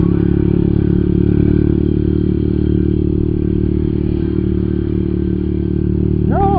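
An old restored carbureted Yamaha Byson motorcycle being ridden, a steady loud engine drone with road noise running throughout, no talk over it.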